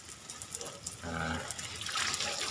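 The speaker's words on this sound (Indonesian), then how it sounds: "Ini semua kita siramin." Water splashes and trickles as a row of santigi plants is watered, a soft, faint, continuous pouring with small patters.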